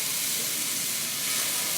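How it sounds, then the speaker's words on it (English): Cold water poured onto a hot waffle iron crusted with burnt sugar, a loud continuous hissing sizzle of steam, close and steady for the whole short moment with no talk. "I'm going to pour it right on top of this, and that's going to just help steam off some of that burning sugar."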